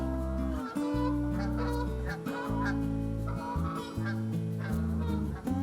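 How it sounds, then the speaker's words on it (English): A flock of Canada geese gathering for migration, honking loudly and nonstop, many overlapping calls blending into a dense, close chorus. "the Canadian geese that are smart enough to get out of here are gathering"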